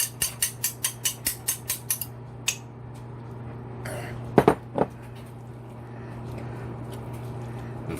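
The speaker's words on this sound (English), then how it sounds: "And give it a good whisk." An egg being whisked in a bowl while stuffed peppers are prepared: a quick run of about nine sharp, evenly spaced clinking strokes up front, then a few scattered knocks and a pair of louder clatters, with a steady hum underneath.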